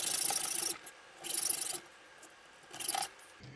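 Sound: hacksaw cutting metal for lockpicks

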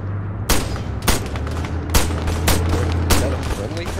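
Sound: tank firing in the video game Arma 3

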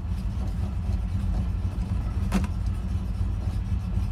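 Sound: Ford Ranchero engine while shifting through gears

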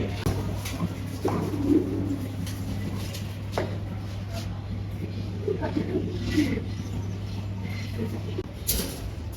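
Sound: pigeons cooing in loft

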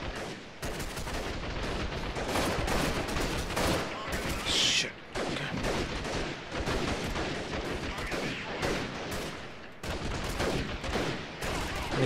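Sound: gunfire in video game Freeman Guerrilla Warfare

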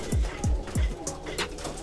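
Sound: pigeon cooing

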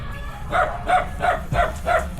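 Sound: dogs barking

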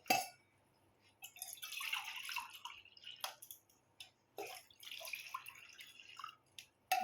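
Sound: straining a liquid drink

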